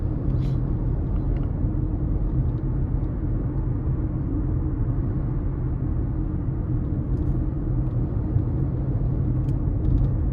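A 2026 Nissan Kicks S with front-wheel drive cruising down the road, heard from inside as a steady low rumble of road and engine noise with no talking.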